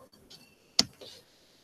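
A single sharp computer mouse click, close and fairly crisp, lands amid faint background noise and soft breathy sounds, while setting up a new file in a Python 3.7.0 shell.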